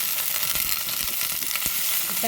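Mustard seeds, fennel, fenugreek, onion, curry leaves and green chili sauté in hot oil for a dried-fish curry, giving a loud, steady sizzle with crackling pops and a few stirring scrapes up close.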